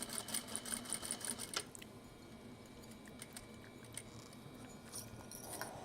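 Sewing machine back stitching a fabric petal pouch, its needle running in quick rhythmic pulses for a second or two before easing into a quieter, softer hum for the rest of the time.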